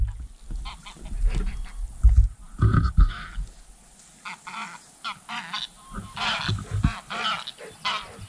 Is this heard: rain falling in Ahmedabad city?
no